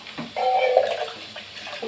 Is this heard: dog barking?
no